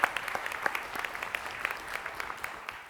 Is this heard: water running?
no